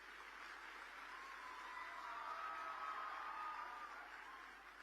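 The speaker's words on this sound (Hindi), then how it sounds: "जरा जोर से ताली बजाए वे।" Faint, steady applause from an audience at a convocation ceremony in Gandhinagar, a sustained wash of clapping that swells slightly and then tapers off, with no speech over it.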